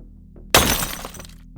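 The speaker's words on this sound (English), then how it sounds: "they hear the sound of glass breaking" A glass window shatters at night with a sudden loud crash, followed by a bright spray of tinkling shards that fades over about a second.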